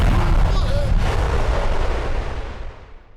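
A cartoon bomb in Motu Patlu goes off with a loud booming blast that rumbles and slowly fades away, with a voice briefly heard underneath.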